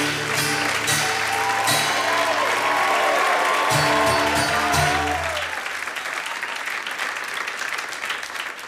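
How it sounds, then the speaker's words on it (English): Audience applause, a sustained wash of clapping from a crowd, loud and steady, with some music or tones beneath at first before it thins out toward the end. "Give Jake applause for the group."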